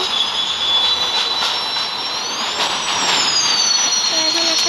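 A train brakes to a stop at Cox's Bazar railway station in the Indian Bikes Driving 3D game, letting out a high, drawn-out wheel squeal that rises and falls in pitch over a steady rumble.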